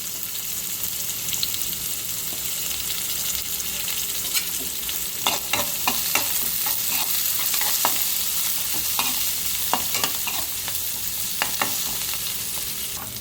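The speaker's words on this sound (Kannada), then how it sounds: "ಸ್ವಲ್ಪ ಫ್ರೈ ಆಗಲಿ, ಆಮೇಲೆ ಸ್ವಲ್ಪ ಪುದೀನ ಹಾಕೋಣ" Chicken gravy masala with onions fries in a pan, giving a continuous close sizzle broken by scattered scrapes and clicks of a spoon, with no talking.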